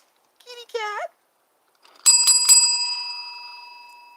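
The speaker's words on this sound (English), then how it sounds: "And listen to a little bell." A small bell rings out clearly, struck two or three times in quick succession and then left to fade in a long, shimmering decay, preceded by a brief spoken voice.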